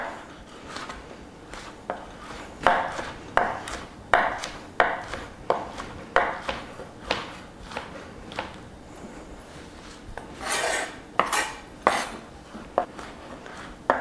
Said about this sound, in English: So I'm going to run my knife through these a few times and break them down